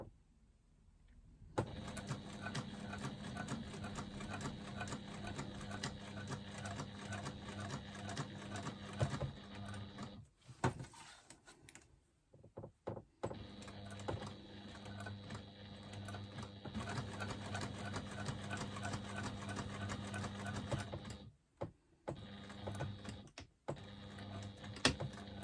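A sewing machine runs close by in long, steady bursts as it stitches fabric, with short pauses between runs. A faint rattle of handling fills the gaps.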